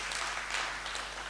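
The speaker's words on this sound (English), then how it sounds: "Many claps for him." Brief, soft applause from an audience at an All World Gayatri Pariwar spiritual gathering in Coimbatore, a steady wash of clapping with no voices.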